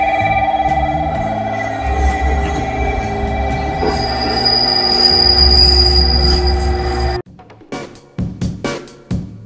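An electric train rolls along in Fukuoka, Japan, with a loud, sustained hum and high metallic tones, then the sound drops off abruptly into intermittent clunks and knocks.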